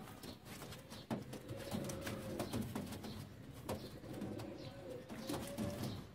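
Rampuri breeder pigeons coo softly and repeatedly in a loft, with low rolling calls and occasional wing flutters over steady background noise.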